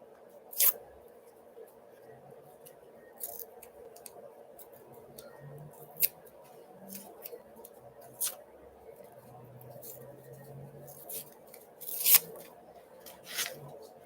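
Paper slips are torn up by hand close by, with several short, sharp rips spread unevenly among quiet rustling and faint handling noise.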